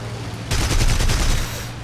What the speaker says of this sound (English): shall I unleash my cannons of fury on you